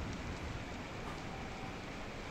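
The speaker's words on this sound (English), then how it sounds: "And it's raining. And it's dark." Steady, soft rain falls at night in the video game Mirthwood, a continuous even wash with no voices or other distinct sounds over it.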